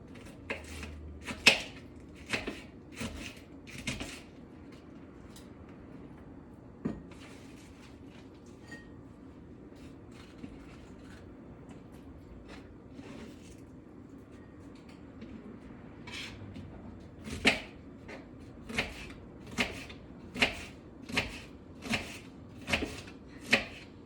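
Knife chopping cabbage on a cutting board: bursts of sharp, rhythmic close-up chops, a quick run at the start, sparse taps in the middle and a steady fast series near the end.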